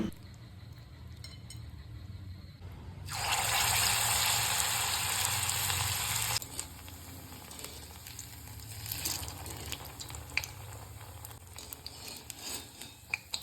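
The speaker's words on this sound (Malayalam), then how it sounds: "ഇനി ഇത് വടയുണ്ടാക്കുന്നത് പോലെ എണ്ണയിലേക്ക് വാരിയിട്ട് വറുത്ത് കോരിയെടുക്കാം." A sudden loud sizzling roar bursts up as batter drops into hot oil, holding steady for a few seconds before fading back into quieter kitchen clatter.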